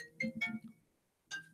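A mobile phone ringtone chimes in two bursts, a quick run of tonal notes followed after a pause by one more note, heard alone and fairly close.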